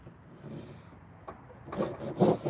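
Scrap wood pieces for a small wooden vase or candle holder being sanded. A quiet rasping scrape at first, then louder, closer rubbing strokes near the end, with no talking.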